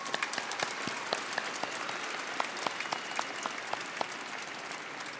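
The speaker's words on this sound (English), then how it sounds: "Give yourselves a round of applause." Graduates at a high school graduation ceremony clapping steadily, with distinct individual claps over a soft, fairly distant bed of applause.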